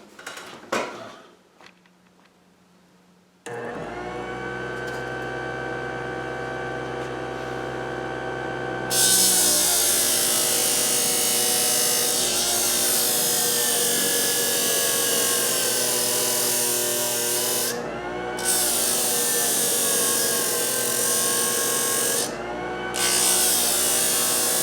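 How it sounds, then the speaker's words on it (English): A disc sander runs with a loud, steady motorized whine and roar as a model ship part is sanded against the disc, its tone shifting and dipping briefly where the workpiece presses in, after a quiet start. "I'll take this over the disc and I'll give it a sand"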